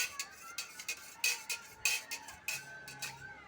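A spoon stirs banana fritter batter seasoned with salt, turmeric and sugar, knocking against the bowl in a regular run of light clinks and scrapes, close and fairly quiet.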